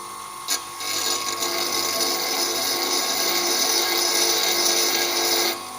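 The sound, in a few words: bench grinding wheel sharpening a lathe cutting tool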